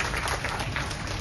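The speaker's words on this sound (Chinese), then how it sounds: "非常谢谢大家的掌声鼓励" An audience claps in continuous, dense applause at a Buddhist gathering, a steady wash of hand claps with no distinct voices over it.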